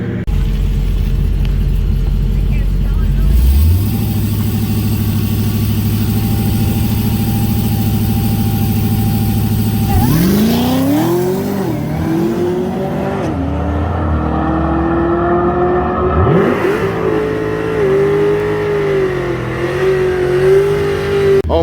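A Cadillac CTS-V on a drag strip sits at a low idle, then its engine revs up and launches hard, pulling through several gear shifts with rising, loud roaring sweeps that carry on to the end.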